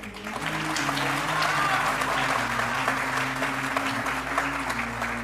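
A studio audience at a televised courtroom-style talk show claps loudly and continuously, a dense sustained wash of applause with a low tone humming underneath.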